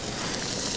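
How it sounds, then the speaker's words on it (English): Food for a breakfast sandwich sizzles steadily in a hot pan, a close, continuous hissing crackle with no pauses and no voices. "You can hear the nice sizzle over where you are"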